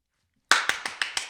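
Hands clap five times in a steady rhythm, each clap sharp and close, starting after a half second of silence and fading slightly in strength toward the end.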